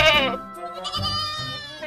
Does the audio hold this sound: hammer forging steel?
no